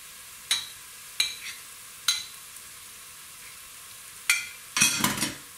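Meat sizzling in a hot frying pan as it is stirred, with short loud bursts of frying and scraping at irregular intervals over a quiet steady hiss.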